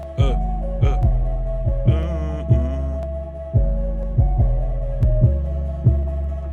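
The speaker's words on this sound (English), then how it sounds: "This is the 808 we got so far." Deep booming 808 bass hits in a steady repeating beat, loud and close, with a sustained melodic tone riding over the top.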